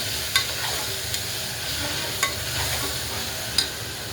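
A spoon scrapes and stirs a masala of onion, tomato, potato and ginger-garlic paste with red chilli powder and a pinch of garam masala in an oil pan for masala rice, clicking a few times over a soft, steady sizzle.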